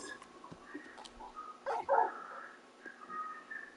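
Torgal, the large wolfhound companion in Final Fantasy XVI, gives soft canine whimpers and yips over quiet game ambience, with a louder whining burst partway through before settling into faint whines.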